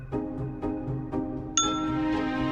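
Chime dings in the video game Myst: four clear bell-like tones struck at a steady pace, the last one brighter and ringing out longer, with no voices over them.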